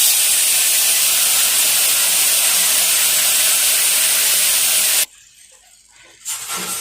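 Ground mint chutney paste dropped into hot oil with popped mustard seeds and asafoetida, bursting into a loud, steady sizzling hiss close by that cuts off abruptly, then a softer sizzle returns.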